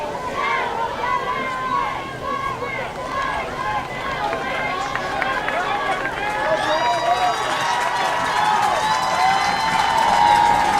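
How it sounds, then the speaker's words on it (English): Tiger fans clap in quick staccato bursts in the crowd at a Big 14 championship football game, a steady crowd roar under it and an announcer talking over the top throughout. "Tiger faithful with the staccato applause."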